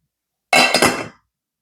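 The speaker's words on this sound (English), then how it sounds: "We're gonna cover it up with the lid." A single metallic clank of a lid set onto a pot of boiling water, sharp and close, ringing briefly before fading into silence.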